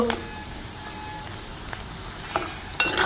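Tadka of dried red chillies, cumin and fenugreek seeds sizzles and crackles steadily in a clay pot, with a few sharp pops and ticks that could be the lid rattling.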